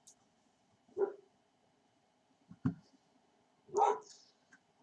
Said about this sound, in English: you can probably hear the dogs in the background in the garden